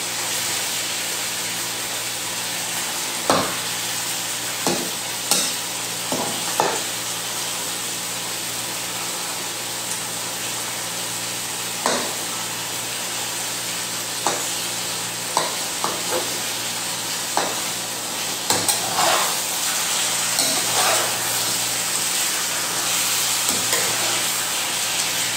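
Adobo being stirred as it fries in a pan: a steady sizzling hiss runs throughout, broken by scattered scraping clacks of a utensil against the pan, close and clear, with no talking.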